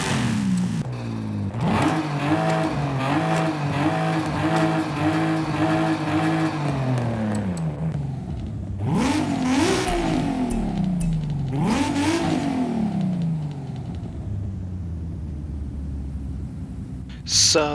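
A drift-built car in Forza Horizon 5 revs hard, its engine note rising and falling through repeated throttle blips and sweeps, loud and close, with a steady whine sustained through the first half before sharp rev spikes.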